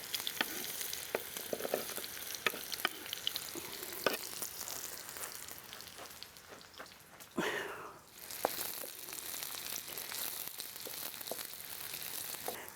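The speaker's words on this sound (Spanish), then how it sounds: "Tiene ajito picado y la cebolla. Vamos a echarla ahí para que se fría un poquito" Chopped onion and garlic fry in a pan, a steady bright sizzle broken by scraping stir strokes and a brief louder hiss midway, with no one talking.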